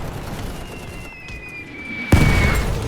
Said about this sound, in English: My siege gun's definitely doing a number on their artillery position here.